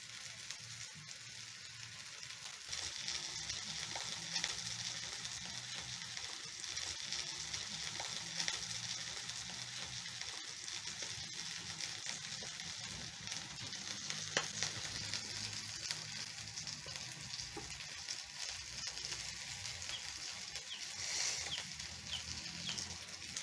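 Fish frying in a pan for fish stew, a soft continuous sizzle and crackle with faint occasional clicks, fairly quiet, no voices.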